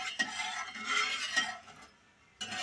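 Asafoetida being stirred into hot white oil in a wok, with a few close scraping and clinking strokes of a utensil against the metal over a faint sizzle, then a short pause before the stirring resumes.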